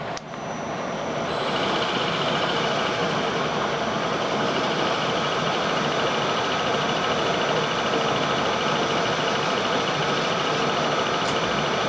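A machine spins up while machining a clutch arm, a steady loud mechanical whir that rises within the first second and then holds an even, continuous drone with a faint high whine, no talking.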